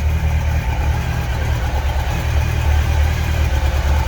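A carbureted motorbike engine idles steadily with a deep low rumble, continuous and fairly loud throughout, with no talking.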